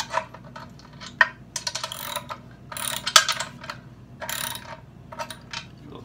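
Adjustment on a Caldwell Lead Sled Solo shooting rest being tightened, a close, steady run of ratcheting mechanical clicks and metallic turns in short bursts with brief pauses.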